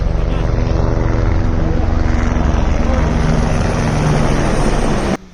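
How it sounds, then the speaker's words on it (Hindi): A helicopter arriving on the Amarnath Yatra Pahalgam route in snowy mountains roars loudly and steadily with dense rotor and engine noise, cutting off abruptly at the end. "ये देखो आ गया हेलीकॉप्टर।"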